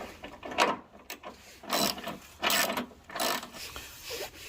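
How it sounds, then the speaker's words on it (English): A ratchet with a 13 mm socket turns a bolt holding a Subaru hood support near the fender, making bursts of rapid clicking in an uneven rhythm, loud and close. "you use the 13 mil socket on this one"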